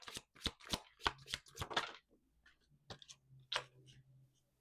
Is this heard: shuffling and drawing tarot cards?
yes